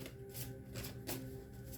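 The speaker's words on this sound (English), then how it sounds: "I'm going to shuffle these again for Taurus too" Tarot cards being shuffled by hand, a quiet run of soft riffling flutters in a few brief bursts, close by and heard alone.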